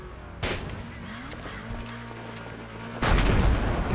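A flare is fired in GTA 5 during a roleplay race, marked by two sharp, loud bangs about two and a half seconds apart over a steady low background rumble.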